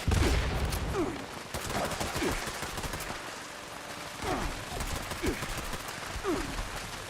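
Rapid gunfire in the video game Fallout 76, repeated bursts of shots crackling over a dense noisy background, fairly loud and steady throughout with short gaps between volleys.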